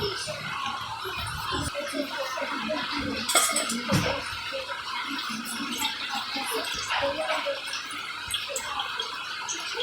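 Running water splashes continuously over a ripe Amrapali mango from an orchard as it is rinsed by hand at close range, with speech over the washing.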